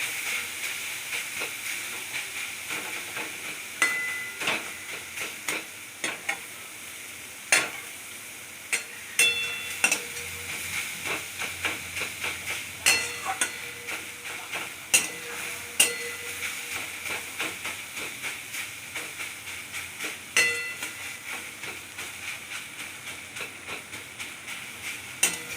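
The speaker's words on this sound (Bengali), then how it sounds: "গ্যাসটা কমিয়ে দিয়ে সমানে নাড়াচাড়া করতে হবে, গাজরের রস যতক্ষণ না মরছে।" Grated carrots are stirred and fried in a pan on low gas while carrot barfi is being made, with a soft continuous sizzle and regular scraping clicks from the spoon, close by and without speech.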